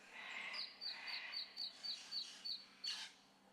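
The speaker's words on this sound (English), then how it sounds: "Definitely gives you the impression of outback, the bird noises." Outback birds calling outdoors: a rhythmic series of about eight short, bright, repeated chirps evenly spaced, then one louder call, fairly faint and distant, with no talk.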